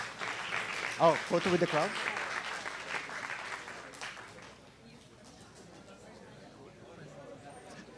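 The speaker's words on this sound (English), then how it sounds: "last round of applause for Coach Tab Baldwin" Applause from a seated crowd honoring basketball coach Tab Baldwin at an Ateneo de Manila event, clapping loudly at first and then thinning out into murmuring chatter, with voices speaking over it.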